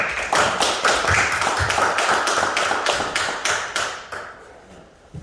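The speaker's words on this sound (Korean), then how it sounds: "박수로 하나님께 감사드리겠습니다." A church congregation claps together in a steady, rhythmic burst of applause for about four seconds, then the clapping trails off into quiet.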